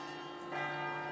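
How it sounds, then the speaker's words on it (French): The Glockenspiel carillon on the façade of Munich's early-20th-century New Town Hall on Marienplatz rings with sustained, resonant bell tones heard from a distance over a steady ambient background. "le Glockenspiel, le carillon de la façade du nouvel hôtel de ville"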